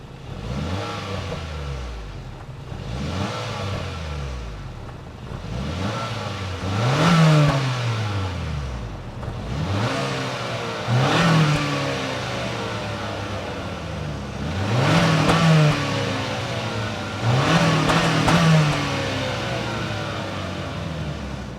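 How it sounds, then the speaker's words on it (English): A 2025 Acura RDX's 2-liter turbocharged four-cylinder engine revs up and settles back again and again, about six loud, rising pulls over a steady idle, with no talking. "let's fire up this 2-liter turbocharged 4-cylinder engine, and here she sounds"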